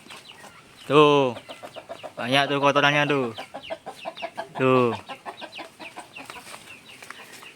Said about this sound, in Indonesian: Nah, di sini juga ada ayam lagi.